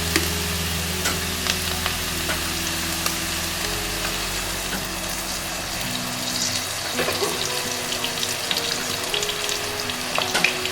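Oil heats in a pan after the water has cooked off, while cooking mushroom and Malabar spinach greens in mustard. It gives a loud, even hiss and sizzle with faint crackles and a steady low hum, and no one speaks.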